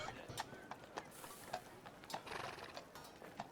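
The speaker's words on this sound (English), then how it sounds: "I have city ambience playing right now, but it's like mostly horse noises" A city ambience track plays quietly, full of horse sounds: repeated clip-clop hoofbeats and a few neighs and whinnies, all faint with no one speaking over them.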